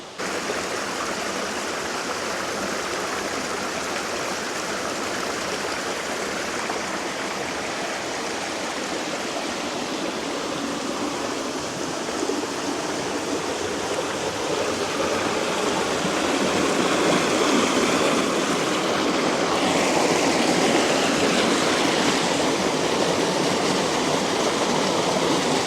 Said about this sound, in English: I'm going to go down and show you the rapids and the rocks.